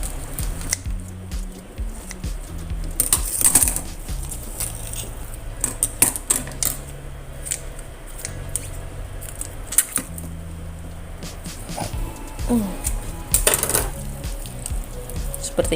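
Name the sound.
scissors cutting a young chicken along its back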